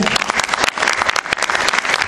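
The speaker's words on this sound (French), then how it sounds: "donc on va vous l'applaudir" A conference audience on dubbing claps steadily, a dense, close wash of many hands throughout with no pause.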